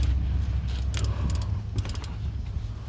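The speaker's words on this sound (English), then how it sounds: "Attach a 3/8 drive ratchet onto the drain plug and strategically position the drain pan." A 3/8 drive ratchet clicks on the manual transmission drain plug of an Acura TSX. Several quick, close ratcheting bursts sound over a low background hum, with no talking.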